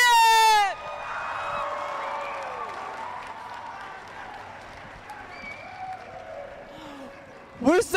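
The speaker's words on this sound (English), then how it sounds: "Give yourselves a huge round of applause, folks." Large crowd at a state robotics championship applauding and cheering, a steady broad roar of clapping filling the hall, with a voice shouting at the start and end.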